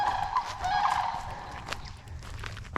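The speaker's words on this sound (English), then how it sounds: "These birds are hilarious." Honking, gobbling fowl call along the Florida Trail, a loud close cluster of overlapping nasal cries over outdoor background noise, then fading into scattered softer calls.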